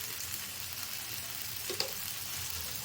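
Tomatoes and radish fry together in a pan for radish chutney, a faint, even sizzle hissing throughout with a single brief clink of a utensil partway through.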